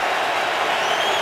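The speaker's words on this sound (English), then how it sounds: "And the crowd wakes up at MetLife." A football stadium crowd at MetLife roars in a dense, sustained wash of cheering noise, loud and steady throughout the short stretch.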